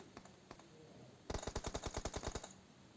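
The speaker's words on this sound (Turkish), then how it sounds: "Çok yakınımızdan sıkıyorlar. Sesler çok yakından geliyor." Close-range automatic gunfire in PUBG Mobile: after a couple of faint single cracks, a rapid string of about a dozen sharp shots rattles out in an even rhythm, loud and near, with no talking.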